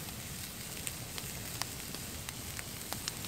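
Soft, steady sizzle with sporadic crackles and pops as food cooks over an open campfire in the snow, quiet and close, with no voices.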